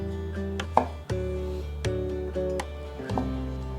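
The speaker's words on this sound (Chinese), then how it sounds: "香菇排整齐，切条。" A knife slices a large, thick fresh shiitake mushroom into strips on a board, with several crisp, separate chops at an uneven pace over soft background music.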